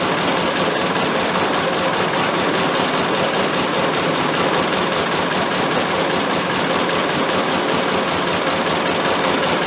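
Car engine with SU carburetors idling, heard up close through a hose held to the intake: a steady, dense hiss with a low rhythmic pulse that continues evenly and loudly for the whole stretch, with no talking.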